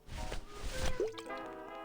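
Fake ocean water sloshes and drips in the Grim Fandango video game, a short liquid squish and splash close up, with faint game tones running underneath.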